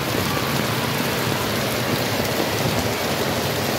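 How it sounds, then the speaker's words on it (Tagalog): Heavy rain pours steadily during a typhoon flood in Fairview, a dense, loud, unbroken hiss of water striking surfaces with no voices over it. "Ay, ayun, lumakas ulan."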